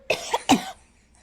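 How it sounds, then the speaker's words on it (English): A person coughs sharply twice in close succession, dry and forceful, after inhaling a gnat, then a brief quiet follows. "I coughed it out. A gnat flew in my mouth, and I breathed it in, and I literally just coughed it out."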